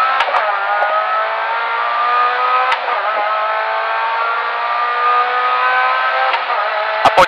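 Rally car in the Rally Prešov 2015 stage near Ľubotice, heard from inside as the engine revs hard and climbs through the gears, with sharp shift cracks and loud, steady acceleration throughout.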